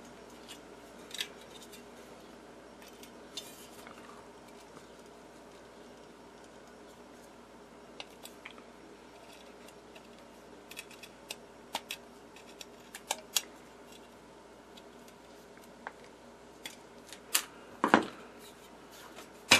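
Metal bits are picked and scraped from an old rivet hole in a corroded Philco 37-640 radio chassis. Sparse, faint ticks and small scrapes sit over a quiet background, ending in a short louder clatter near the end, with no talk.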